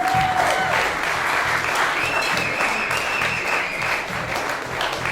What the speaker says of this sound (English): I should give him a big round of applause for that.